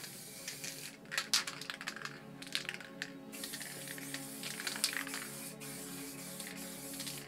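Aqua Montana Gold spray paint is sprayed in short hissing bursts with pauses, joined by faint rattles and clicks.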